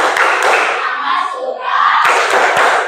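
A class of children in an Islamic religious lesson claps and chants in rhythm together, loud and close, with a brief lull partway before the group sound surges back.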